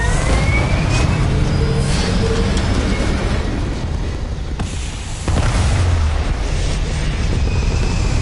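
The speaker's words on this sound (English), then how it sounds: "All thrusters firing." Spaceship thrusters firing in Starfield, a loud continuous roaring rumble with deep booming surges and a brief dip midway, close and without speech.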